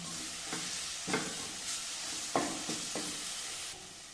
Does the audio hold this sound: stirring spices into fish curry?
yes